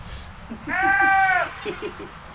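A newborn miniature goat gives a single wavering bleat, close by, with faint background noise and a brief voice-like murmur around it.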